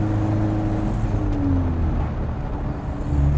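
Inside a manual-transmission car in fourth gear, the engine hums at a steady low drone with road and cabin noise, the pitch shifting slightly as speed settles.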